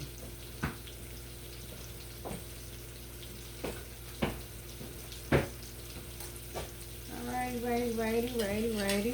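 A steak sizzles in a pan as a soft, steady frying hiss beneath several sharp kitchen knocks and clatters, with a voice rising near the end.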